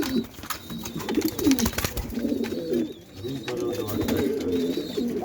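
Pigeons and their chicks in a pigeon house coo in overlapping low, rolling calls, with a few sharp knocks and rustles mixed in nearby.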